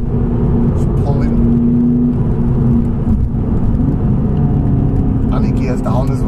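VW Scirocco 2.0 TDI 175 BHP diesel with a remap or tuning box, accelerating hard uphill: a loud, steady engine drone and turbo pull runs throughout, with road rumble and someone talking over it.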